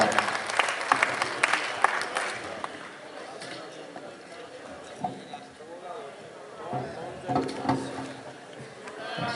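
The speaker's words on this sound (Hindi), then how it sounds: "जोरदार तालियों के साथ आप इस्तकबाल फरमाएं।" A crowd at an All India Mushaira in Nizamabad, Telangana claps to welcome a poet. The dense burst of applause fades after a few seconds and gives way to someone speaking over faint crowd chatter.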